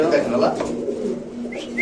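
Ringed pigeons at a pigeon seller's coop coo in a low, continuous murmur, close by, while people talk over them.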